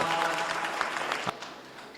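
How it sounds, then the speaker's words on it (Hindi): Audience at a Hindi poetry recital gives sustained applause, a dense, even patter of many hands that holds steady for two seconds at moderate loudness. "एक बार इनके लिए वरिष्ठता की आप तालियां बजाएं"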